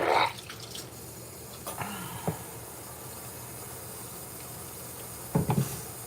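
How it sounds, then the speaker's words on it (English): A toilet flushes with a brief rush of water, followed by a long, quieter trickle and refilling hiss, ending in a few gurgling splashes. "Flush it all down."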